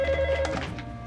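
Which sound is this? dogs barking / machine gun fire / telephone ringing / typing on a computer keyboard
telephone ringing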